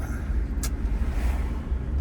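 A car driving home gives a muffled low rumble from inside the cabin, with a brief faint rustle partway through.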